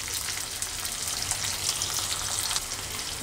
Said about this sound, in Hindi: प्याज हमारी भून के देखो खुल भी गई है प्याज सारी, बस हमने इतना ही भूनना है।